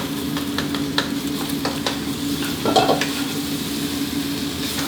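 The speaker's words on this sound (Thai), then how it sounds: "นี่เราผัดให้ไข่ออกกลิ่นหอมดีก่อนนะครับ" Egg and pork stir-fried with plenty of black pepper in a pan, giving a steady close sizzle with scattered scraping and stirring clicks and a brief louder burst near the middle.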